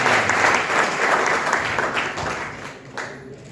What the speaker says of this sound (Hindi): स्वागत करिए तालियों की गड़गड़ाहट।